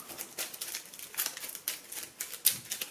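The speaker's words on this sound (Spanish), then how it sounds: "Bueno, y tenemos que barajar." A deck of cards for the Legendary Marvel deck-building game being shuffled nearby, quick crisp riffling bursts in an uneven rhythm, with no talk.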